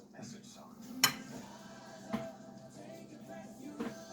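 A fork scrapes and clinks against a pot or bowl while chili with grated cheddar is stirred, giving a few distinct metallic taps over low background noise and faint speech.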